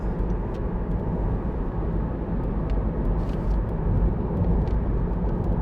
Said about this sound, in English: the van's undertaking him and going past now